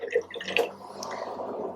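A paintbrush loaded with green paint swished and rinsed in a pot of water, with soft drips and small watery splashes close by, brief and gentle against a quiet background.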